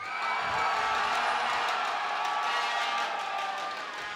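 A loud, dense esports arena crowd roars and cheers continuously at a League of Legends match, with whoops rising above the sustained wash of noise.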